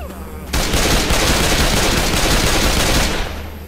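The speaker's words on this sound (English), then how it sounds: "I am bombarding bullets downrange." Sustained machine-gun fire in Left 4 Dead, a loud, dense, unbroken burst of rapid shots that kicks in abruptly after a brief moment and runs for about two and a half seconds before cutting off.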